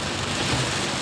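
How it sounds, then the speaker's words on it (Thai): Heavy rain from a daytime storm drums on a car being driven home, a loud, dense, unbroken wash of noise over a brief moment. "ฝนไม่ได้ซาเลยนะครับไม่ซาเลยครับ"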